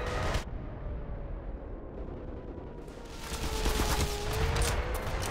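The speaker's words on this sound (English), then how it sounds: "now who's shooting at me?" Enemy gunfire in the video game Black Mesa, a dense, continuous rattle of shots with a steady roar underneath, building slightly louder toward the end.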